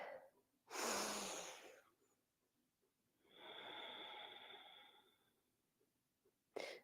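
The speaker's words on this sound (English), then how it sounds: "one more deep breath" Two long, deep breaths during a relaxing yoga session: a loud broadband inhale, then a quieter, airy exhale after a pause, with a short breath at the end. No talking.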